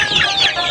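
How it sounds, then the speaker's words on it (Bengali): Native desi chickens cluck steadily on a quail farm, a close, continuous run of clucking notes with no voices over it. "আর এদিকে দেশি মুরগি আছে"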